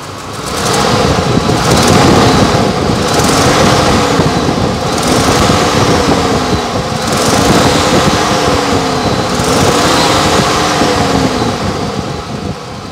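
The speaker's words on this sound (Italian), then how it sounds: "Questo è il motore" A 1979 Range Rover Classic with a V8 engine idles steadily and close, a continuous loud rumble with a faint cyclic wobble and no pauses.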